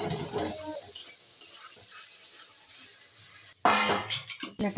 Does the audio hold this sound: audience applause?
no